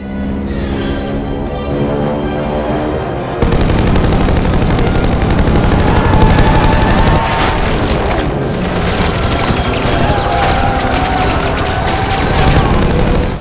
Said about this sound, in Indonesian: Tembakan brutal dari senapan mesin pun meluncur